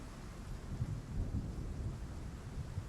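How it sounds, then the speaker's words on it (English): Rain and thunder ambience from the game Monster Hunter Freedom Unite: a steady hiss of rainfall with low rolling rumbles of thunder throughout, moderately quiet and continuous, with no voices. "Rain ASMR?"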